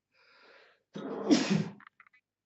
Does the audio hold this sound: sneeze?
yes